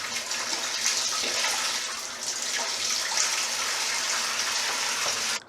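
Water gushes steadily from a tap in a home plumbing job, a constant hissing, splashing rush that stays loud and close before cutting off abruptly at the end.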